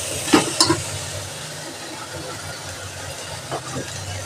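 Ginger, garlic and moong and masoor lentils are stirred in a hot pan, giving a soft, steady sizzle with a few clinks and scrapes of a spoon near the start and end.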